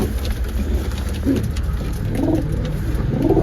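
Pigeons coo in low, throaty bursts, several repeated calls rising over a steady background hum and faint patter, close by and moderately loud.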